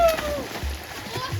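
Water splashing as a child swims in a pond wearing a life jacket, soft repeated splashes and sloshing under nearby talking voices.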